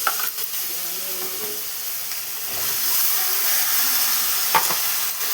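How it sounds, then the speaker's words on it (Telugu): Chopped eggplant and green chilies sizzle steadily in hot oil tempering for an Andhra-style eggplant curry, a continuous close frying hiss with occasional stirring clatter and no talk. "పచ్చిమిర్చి వేసుకొని తరిగి పెట్టుకున్న వంకాయలు వేసుకున్నాం."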